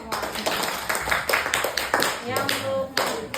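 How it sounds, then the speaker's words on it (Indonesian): A group in an Indonesian classroom or workshop session claps hands in loose bursts, with distinct rhythmic slaps near the microphone and voices talking and calling out underneath. "Tepuk tangan buat kita semua."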